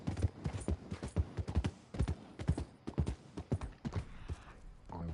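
Horse hooves clip-clop at a steady trot while riding in Red Dead Redemption 2, the rhythmic thuds loud and close, and someone talks over them throughout.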